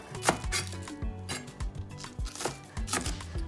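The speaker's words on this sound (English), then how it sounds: "So I'm gonna finely chop my green onions to add to our salted fish." Green onions being finely chopped with a knife on a board, rapid irregular knocks at close range, no talk over them.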